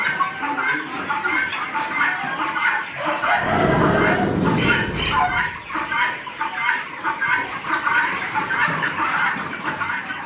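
Free-range laying hens cluck and squawk continuously from a busy outdoor flock, a dense layered chatter that swells briefly with a louder low rumble midway, while a dog barks now and then.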